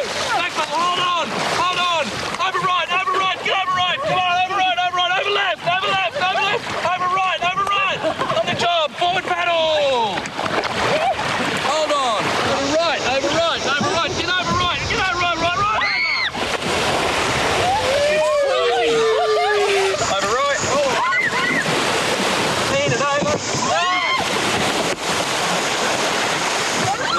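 A raft runs river rapids as surging whitewater and gusting wind roar loudly and continuously throughout, with people shouting and calling over the rushing water.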